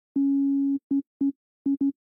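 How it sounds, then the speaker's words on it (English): A pure sine-wave tone from a synthesizer using SQ80 waveforms plays one sustained note of about half a second, followed by four short, clean blips of the same pitch in an uneven rhythm. "I'm just going to come down here to sine wave, click it, it's going to load it up, and this is what we got"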